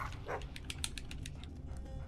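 A dog barks a few times in the Game of Thrones video game, quick sharp yaps over a constant low rumble of game background sound.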